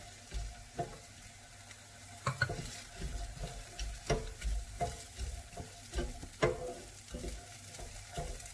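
Chopped onion fries in a little extra virgin olive oil in a pan, a soft steady sizzle broken by repeated scraping stirs and utensil knocks, close and fairly quiet with no talk.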